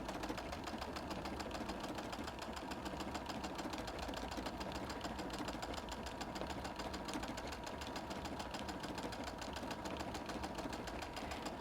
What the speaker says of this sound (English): it's kind of nice to use your decorative stitches on your machine that you don't usually use